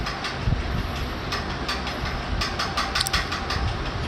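Bread slices dipped in wheat-flour batter fry in hot oil for bread bajji, giving a continuous loud sizzling hiss broken by scattered crackles and pops.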